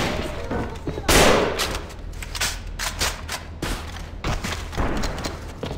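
Rifle fire in the online shooter AVA during an exhibition match, with a loud burst near the start followed by repeated sharp shots in irregular clusters, close and punchy.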